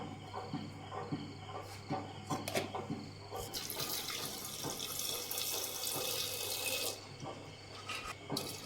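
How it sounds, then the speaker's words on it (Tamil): Water runs into a pot of soaked chickpeas being prepared for sundal, a soft splashing pour that swells in the middle and fades, with light clinks before and after, quiet and close. "சுண்டல் மூழ்கிற அளவு தண்ணி சேர்த்துக்கலாம்."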